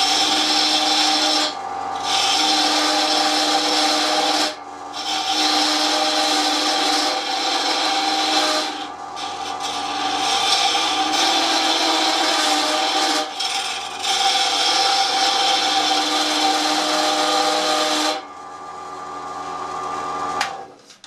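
A steel M27 tap being ground into a knife gives a loud, continuous rasping and scraping that runs in long strokes, broken by a few short pauses, with no voices.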